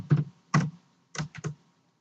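Keys on a computer keyboard are tapped in short clusters, a handful of soft, close keystrokes with gaps between them and no voice.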